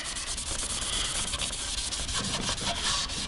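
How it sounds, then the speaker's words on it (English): Steady, continuous abrasive rubbing of sandpaper working stain back off a maple guitar top, close and even in level with no pauses. "And then we want to sand some of it out"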